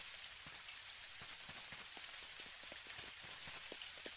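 Steady rain falls in the video game Dinkum, a faint, continuous hiss dotted with soft scattered droplet taps throughout, with no voices.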